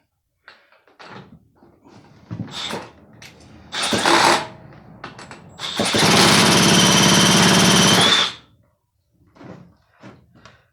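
A Remington SL4 chainsaw engine with a fuel fault is turned over, with a few short handling knocks, then two bursts of loud cranking and sputtering engine noise, the longer lasting about two seconds, followed by quieter clatter.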